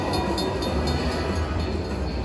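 Train effect from the purple train in the Cash Express Luxury Line slot machine game, a steady rumbling, clattering rail sound playing continuously and fairly loud with no voices over it.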